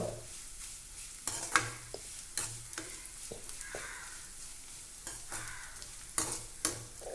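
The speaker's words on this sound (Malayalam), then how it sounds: "ഇനി നമുക്ക് എടുത്ത് വെച്ച് ചെമ്മീൻ പൊടിയില്ലേ, ഇത് നമുക്ക് വറുത്തെടുക്കാം" Quiet frying of dried shrimp powder in oil with sharp scraping and tapping of a spoon against the pan at irregular intervals.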